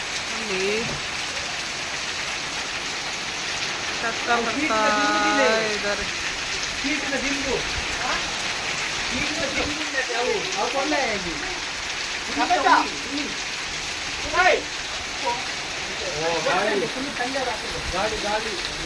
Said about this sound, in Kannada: ಫುಲ್ ಮಳೆ ಬರ್ತಾ ಇದೆ ಎಷ್ಟು ಮಳೆ ಬರ್ತದೆ ನೋಡಿ